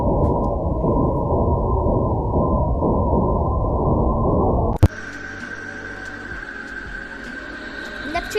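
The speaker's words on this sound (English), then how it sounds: "Neptune doesn't sound normal." Eerie space sound attributed to Neptune: a steady hiss of static-like noise gives way, after a sharp click, to a thinner droning texture with a faint high whine and low hum.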